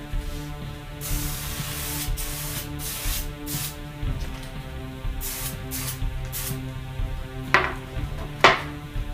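Repeated short hissing bursts from a can of spray glue onto countertop end cap pieces, close and loud, coming in quick irregular spurts with a couple of clattering knocks near the end.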